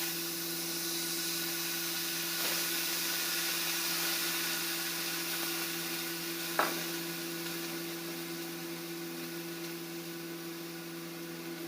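Tomatoes, cumin and chilies fry in a pan with a steady, even sizzle lasting throughout, broken by a single sharp stirring knock midway, with a low electrical hum underneath and no talking.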